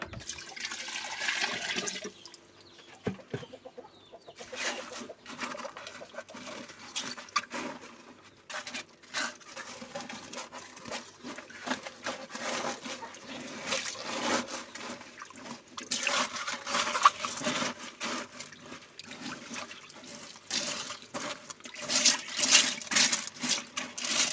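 A steady trickle and splash of water poured into a rainwater filter of mesh and gravel, running continuously for a long stretch with occasional small knocks and rattles.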